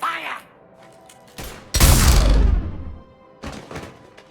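Gunfire bursts from a Mass Effect 3 cutscene: a sharp crack near the start, then a loud, booming volley lasting about a second, followed by fainter follow-up shots, with gaps of quiet between.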